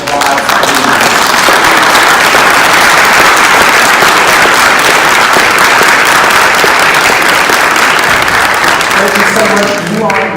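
A large crowd at a Florida Realtors convention in 2018 gives loud, sustained applause, a thick wall of clapping that runs for about ten seconds before easing off as a voice returns at the very end.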